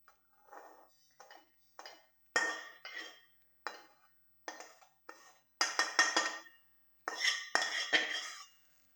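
Metal bowls and dishes clank and clink in short separate bursts while food goes in on a kitchen stove, close and fairly crisp, with quiet gaps between knocks.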